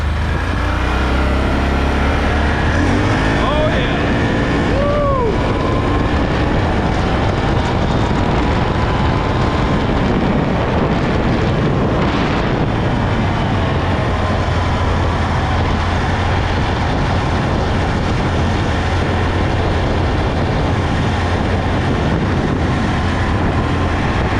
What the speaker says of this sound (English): put it in low gear, see how she does in low gear